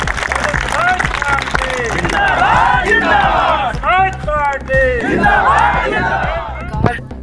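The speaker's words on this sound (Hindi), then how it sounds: "बजाओ ताली और लगाओ नारा" A crowd at a BSP political village campaign rally in Jaunpur claps and shouts slogans together in rising bursts, loud and close, with rhythmic chanting voices and hand claps mixed throughout.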